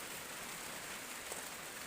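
Steady rain falls at a rural farm garden during the first rain of the season, a soft, continuous hiss with no break and no voices.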